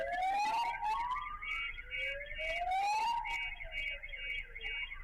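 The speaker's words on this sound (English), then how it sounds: "So now we can hear all of the sirens going off." Several electronic sirens wail at once, sweeping up and down in pitch with a warbling tone, loud and continuous, with brief chirping bursts overlapping.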